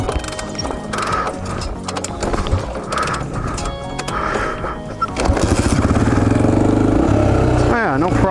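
A 2004 Honda XR400R motorcycle, warmed up and stopped on a hilltop, starts without a bump start and settles into a loud, steady, throbbing idle, with rustling, speech-like background sounds before the engine catches.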